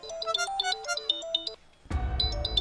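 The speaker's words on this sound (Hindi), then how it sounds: "फोन है कि झुनझुना, जब मनाया उठाया और बजा दिया।" A mobile phone rings with a looping electronic melody of bright, stepped tones. After a short pause, louder clattering bursts in with the ring tone continuing on top.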